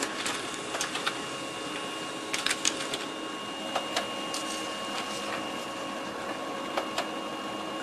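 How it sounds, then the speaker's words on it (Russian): A Brother HL-2030R laser printer runs steadily nearby with a constant mechanical hum and scattered clicks and ticks as it feeds and prints a page. "Принтер начинает работать, забирает листок."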